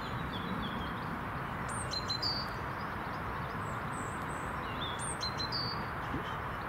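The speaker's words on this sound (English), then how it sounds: "I can see a great tit." Great tit chirping in a garden, thin high calls in short bursts repeated a few times, moderately distant over a steady broadband rumble of background noise.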